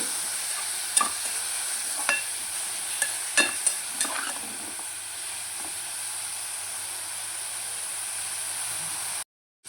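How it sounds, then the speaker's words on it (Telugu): Grated bottle gourd frying in a pan for country-style halwa, a steady close sizzle with a few sharp clicks of stirring scattered through the first half, running alone without talk until it cuts off near the end. "పచ్చివాసన పోయేదాకా వేసుకోవాలండి ఇది"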